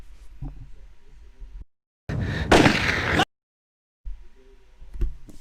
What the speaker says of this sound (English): now that sounds like a gunshot.